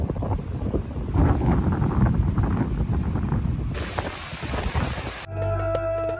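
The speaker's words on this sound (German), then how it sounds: "Das Vorzelt wird jedoch etwas verkleinert, weil der starke Wind es eindrückt" Strong stormy wind at the open sea on Sardinia buffets a motorcycle camper's tent awning, a loud roaring rush with gusting surges that shifts character midway before an abrupt cut.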